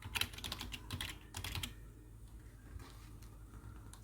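Quiet clicking of keys on a computer keyboard as text is typed into an MS Office 2016 slide, with bursts of rapid taps at first that thin out to sparse, faint keystrokes.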